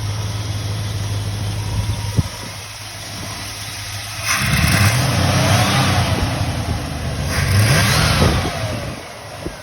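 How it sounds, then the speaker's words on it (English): A carbureted 1981 Chrysler Cordoba LS engine idles, then revs up twice through its exhaust, each rev rising and falling back to a low rumble. "Let's see if we can hear the exhaust."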